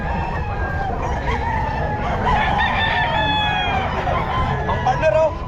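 A stag rooster crows repeatedly at a busy pet market, its calls loud and near among other fowl clucking, with faint voices in the background.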